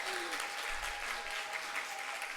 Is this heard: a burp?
no